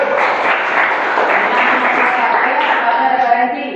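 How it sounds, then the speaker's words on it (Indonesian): A classroom group of students applauds together, a continuous, close wash of many hands clapping at an even intensity that carries through to the end. "tepuk tangan kembali."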